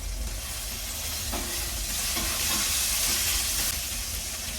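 Steady sizzling hiss of bitter gourd pieces with curry leaves and pandan leaf frying in hot oil in a pan, continuous and close, with a few faint utensil clinks.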